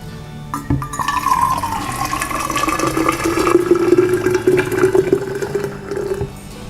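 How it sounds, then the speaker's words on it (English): Boiling water pours steadily into a 1.5-litre Quechua thermos, the gurgle rising in pitch as it fills, close by and continuous for several seconds. "Let's pour the boiling water."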